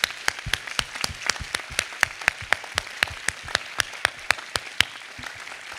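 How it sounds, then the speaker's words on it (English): Audience applause for guests at the close of an evening literary event: steady, evenly spaced claps in a regular rhythm, fairly crisp and moderately loud, continuing for several seconds with no talk over it. "Another round of applause, please, for our guests."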